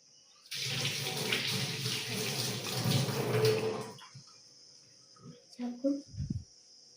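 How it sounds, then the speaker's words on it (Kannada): Tap water runs steadily into a sink for a few seconds while a lemon is rinsed under it in a home kitchen, then cuts off, leaving a few soft knocks and handling sounds. "ವಾಶ್ ಮಾಡ್ಕೊ ಫಸ್ಟ್ ಲೆಮನ್."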